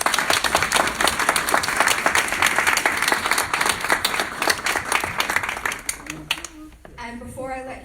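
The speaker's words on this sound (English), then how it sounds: "If we can give one final round of applause." Loud, sustained audience applause closes a workplace mental-health panel, fading over the final seconds as a voice begins speaking.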